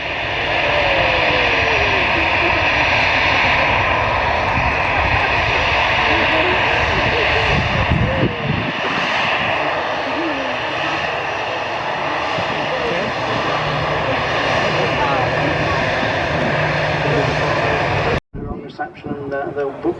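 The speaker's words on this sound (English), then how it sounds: "That was a Scandinavian 737, and just touched down now, just about to vacate the runway." A jet airliner roars at Manchester Airport, a loud sustained engine rumble and whine with wind buffeting, while someone talks over it throughout; the sound cuts off abruptly near the end.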